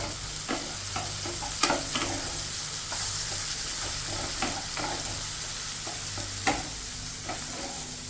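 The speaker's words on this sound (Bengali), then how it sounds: "এখন ঢাকনা খুলে অনেকটা ভাজা ভাজা হয়েছে।" Fish for a macher jhal curry frying in an uncovered pan: a steady, close sizzle throughout, broken by occasional soft clinks and stirring scrapes.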